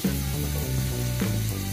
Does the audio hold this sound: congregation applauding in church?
no